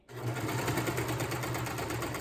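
A sewing machine runs steadily for about two seconds, stitching the back ties of a Veronica bralette bikini top with a continuous close whirring hum and no talk.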